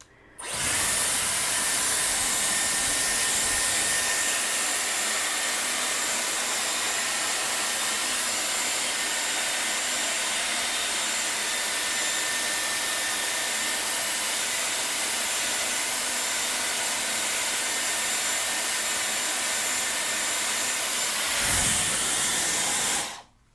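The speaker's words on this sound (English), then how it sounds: "I'm going to take my Dyson and put it backwards" Dyson hair dryer blowing hair backwards for volume on a wig, a loud, steady, close airy whoosh with a high whine that runs continuously for about twenty seconds before cutting off, no voices.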